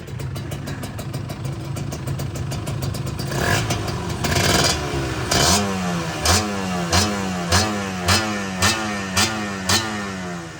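A Kawasaki KR 150cc two-stroke motorcycle engine runs close by, rising through a buzzing rev before settling into a steady pattern of rhythmic blips, about one per second, loud and alone.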